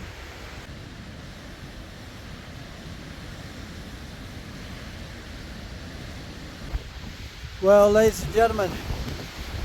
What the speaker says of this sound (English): this is the worst wind I've had since Colorado